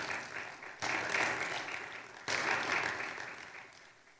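Church congregation applauding during a Spanish-language sermon, two sustained waves of clapping each starting abruptly and slowly fading, moderately loud with no talk over it.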